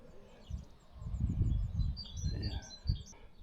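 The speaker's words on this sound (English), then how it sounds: "Listen to the birds." Small birds chirp and tweet in quick high repeated notes outdoors in a rural spot after rain, fairly faint, over low rumbling wind or handling noise.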